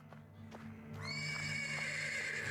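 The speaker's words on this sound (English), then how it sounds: "neighing of a horse can be heard from the stables" A horse whinnies from stables in the video game Black Book, a loud, sustained neigh rising up after a second of low droning background and soft hoof thuds, heard alone without talk.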